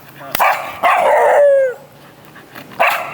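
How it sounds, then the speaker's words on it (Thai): A dog under leash training barks sharply, with a couple of quick yelps and then a longer, drawn-out howling bark, followed by another bark near the end, loud and close. "อันนี้ผมเดาว่าเห่าสุ่ม"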